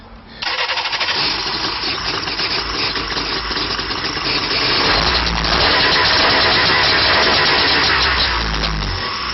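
A Polaris SLX 780 snowmobile engine cranks and catches, then runs loud and rough, its revs surging unevenly and stumbling rather than climbing cleanly.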